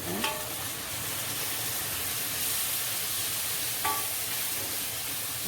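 Tomatoes frying with ginger garlic paste in a pan for chicken masala, a steady soft sizzle with a couple of brief sharp clinks of a spoon stirring, fairly close and without voices.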